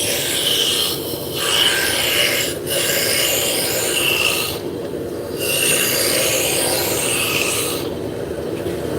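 A roughing gouge shaves a tapered wood spindle on a lathe, making a steady, loud scraping rasp that runs continuously with slight surges and brief dips as the tool moves along the workpiece.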